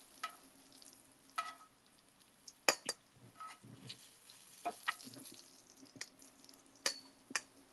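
Green beans with shallot and garlic tossed in a pan on a grill: scattered clinks and scrapes of utensil against metal, soft rustling shuffles, faint sizzle underneath, fairly quiet with no voices.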